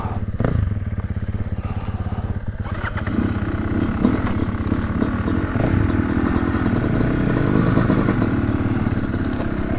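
A Yamaha YZ250X two-stroke dirt bike being ridden on a trail, its engine droning loud and close throughout with steady revving and occasional clattering thumps over the terrain.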